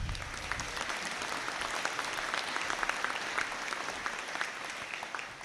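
Sustained applause fills a hall during a graduation conferring session, a thick, steady wash of many clapping hands with scattered louder individual claps, continuing without pause.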